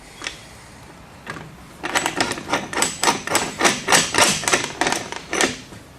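Clamps being tightened to fix a wooden door hinge jig in place, heard as a close, steady series of sharp rhythmic clicks and knocks after a few isolated taps, with no voices.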